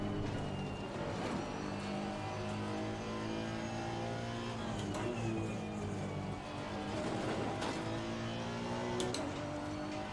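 Race car engine in Assetto Corsa Competizione, loud continuous revving that climbs and drops through repeated gear shifts, with sharp bursts of tire or curb noise throughout.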